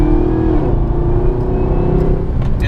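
A 2014 Chevrolet Camaro ZL1 with its supercharged LSA V8 and Borla exhaust runs loud and close, a steady deep engine drone carrying a whining tone that dips and then climbs.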